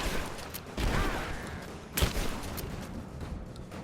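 Shotgun blasts against armored enemies in the action game Rise of the Tomb Raider, with two loud booming shots about a second apart over a dense, noisy game soundscape.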